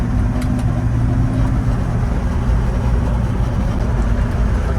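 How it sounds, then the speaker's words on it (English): A 1957 Dodge Sweptside D100 pickup truck rolls along with a loud, steady engine drone and road rumble heard from inside the cab, with no talking. "The power is strong, transmission shifts with ease, the steering feels okay, the brakes feel great, suspension is as a truck should be."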